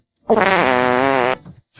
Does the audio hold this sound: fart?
yes